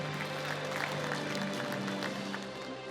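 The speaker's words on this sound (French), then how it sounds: "Sous vos applaudissements, bien sûr." Audience applause at an innovator hall of fame award ceremony in Mauritius: steady, dense clapping from a crowd lasting throughout, with a faint sustained tonal hum beneath it.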